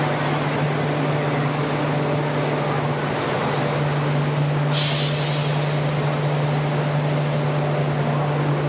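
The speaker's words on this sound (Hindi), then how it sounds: "ये जनरेटर ना बहुत ज़्यादा ही आवाज़ कर रहा है यार" Loud, steady generator drone beside an Indian electric locomotive at a station before departure, a constant low hum with broadband roar running unbroken throughout, with a brief hiss burst midway.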